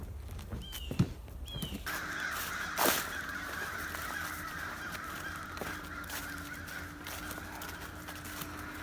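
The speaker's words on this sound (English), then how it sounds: "Those birds didn't sound very happy." Crows caw a few times, harsh and slightly distant, over steady outdoor background noise.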